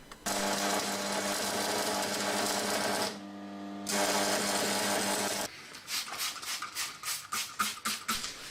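A small welder buzzes steadily while welding an axe chain handle, a continuous electric drone broken by one short pause, followed by quicker crackling bursts of stitch welding.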